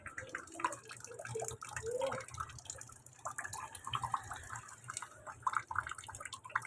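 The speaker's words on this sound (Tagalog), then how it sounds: "tulo ng tubig napakahina" Faint trickle and drip of tap water in a home washing area in Tondo, Manila, a soft irregular patter with low hum and background noise, no talk.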